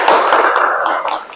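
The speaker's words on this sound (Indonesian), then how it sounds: "Tepuk tangan untuk semuanya." Classroom applause from a group of students, a dense, steady burst of clapping that stays loud and fairly even before tapering off near the end.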